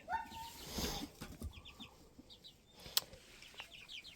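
Farm chickens cluck and call softly outdoors at a sheep-lambing farm, a scattered run of short faint clucks with rustling and a sharp knock, no speech.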